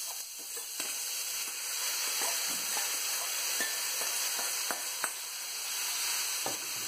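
Onion and chana dal sauté in a pan with a steady, close sizzle and hiss, broken by soft scrapes and small ticks from stirring.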